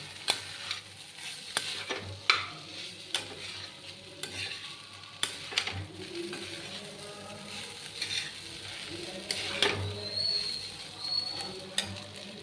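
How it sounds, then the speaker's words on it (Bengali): A spoon scrapes and clacks around a pan as food is stirred with a spoonful of sugar while frying, giving a soft sizzle and irregular metallic taps, close and fairly quiet. "আমি 1 চামচ চিনি দিয়ে দিয়েছি, এবার এটাকে ভালো করে নাড়িয়ে নেব।"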